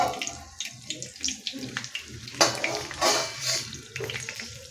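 Alu vadi, Maharashtrian colocasia leaf rolls, fry in a pan with a steady close hiss and sizzle, broken by light clinks and scrapes, with a louder bubbling surge midway.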